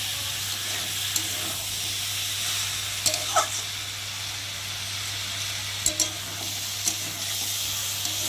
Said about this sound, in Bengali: দিয়ে মশলার সাথে সবজিটাকে মশলাকে ভালো করে কষিয়ে নেব।